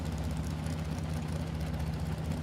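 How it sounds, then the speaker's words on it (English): A big block front-engine drag car idles at Sydney Dragway, a low, steady engine rumble continuing as a deep even drone without revving. "Doesn't sound like a big block here idling away below us, does it?"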